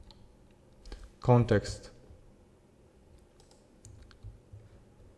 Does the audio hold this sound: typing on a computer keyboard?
yes